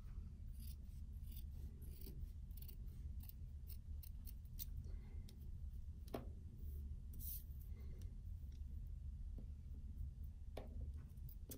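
Scissors snip through folded fabric for small bag pieces, a run of close, quiet crisp cuts and rasping blade strokes at an irregular pace, with no talk.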